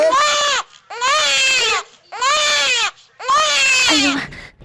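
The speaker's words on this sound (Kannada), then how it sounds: "ಎಲ್ಲ ಮಗ ಕೂಗ್ತಾ ಇದೆ ನೋಡಪ್ಪ." A young child wails in four loud, evenly spaced bursts, each a long rising-and-falling cry separated by short gasping pauses, close and alone.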